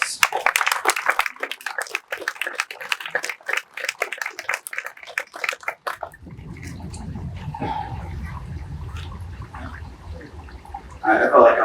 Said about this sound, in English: Can we just give one more round of applause?